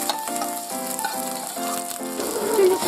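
Beaten egg and firmly cooked jasmine rice stir-fried in chicken fat made from chicken skin, an ongoing close sizzle and rattle of the pan beneath a sustained melodic background tune.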